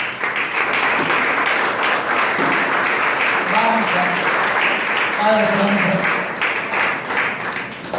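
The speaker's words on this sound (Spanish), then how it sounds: "Denle un fuerte aplauso al Señor." A church congregation at a Spanish-language worship service breaks into sustained applause, with someone speaking over the clapping throughout.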